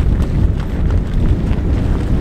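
Strong wind at a forest campsite buffets the microphone in a loud, continuous low rumble with gusty surges throughout.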